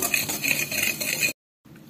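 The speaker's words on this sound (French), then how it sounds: "j'ai mélangé le sucre vanillé et les jaunes" Egg yolks whisked with vanilla sugar and sugar in a bowl for a raspberry speculoos tiramisu: quick, rhythmic scraping and tapping for over a second, then a sudden stop and a brief, quiet pause.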